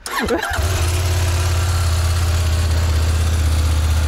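A CFmoto 800 motorcycle engine cranks and fires, then settles into a steady, low, even idle that runs loud and close for the rest of the time, with no talk.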